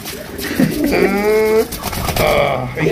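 A crested Raj Golla pigeon gives one drawn-out, resonant coo lasting about half a second, close and fairly loud, with faint voices and stirring around it.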